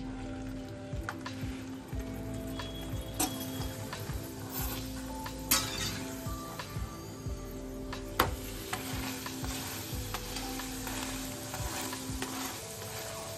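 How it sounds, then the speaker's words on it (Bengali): Continuous hissing sizzle of a paratha frying in hot oil in a pan, with occasional sharp crackles and light clinks of a utensil against the pan. "এদিকে প্যানেতে তেলটা আমাদের গরম হয়ে গেছে। এবার আমি পরোটাটা দিয়ে দিচ্ছি।"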